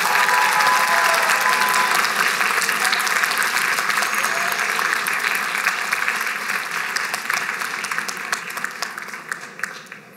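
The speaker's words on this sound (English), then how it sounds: "I would like to give you a big round of applause" Audience applause fills a graduation ceremony hall, a dense, steady wash of many hands clapping together that holds strong for most of the stretch before slowly thinning and tapering off near the end.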